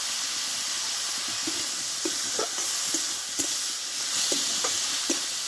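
Shredded cabbage frying in oil with salt, turmeric and a little sugar for a paratha filling, a steady bright sizzle with soft stirring scrapes repeating throughout, close and moderately loud.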